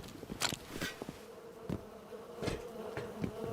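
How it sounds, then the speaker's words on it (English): Bees buzz in the survival video game Rust, several droning passes swelling and fading close by, with no talk over them. "Lots of bees over here."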